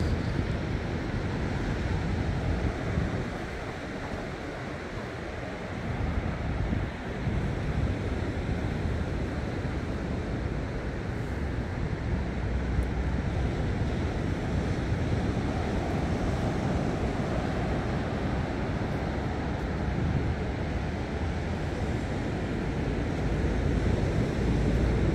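Ocean surf rolls onto the central beach at Balneário Camboriú on a cool day, a steady near wash of breaking waves with wind rumbling across the microphone throughout, no voices.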